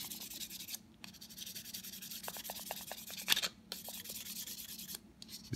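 Steady, soft rubbing of 1000-grit sandpaper over a wooden revolver stock, a continuous scratchy hiss with brief pauses and a few light taps.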